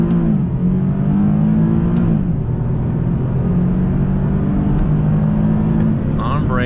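A 2019 Nissan 370Z Roadster revs hard through first gear, a loud, steady engine drone close up that rises in pitch, eases briefly around the shift point and then climbs again.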